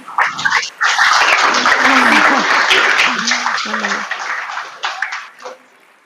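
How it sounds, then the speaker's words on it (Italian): An audience claps steadily for several seconds, and the applause gradually fades while a voice speaks over it. "facciamo un applauso anche dalla sala"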